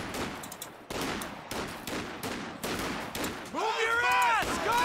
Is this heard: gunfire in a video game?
yes